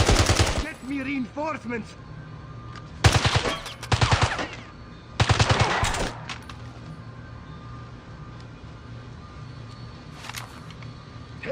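Gunfire in the video game James Bond 007 Blood Stone, set in Siberia: loud bursts of automatic fire in several clusters over the first six seconds, a lone shot later, with shouted voices and a background game soundscape.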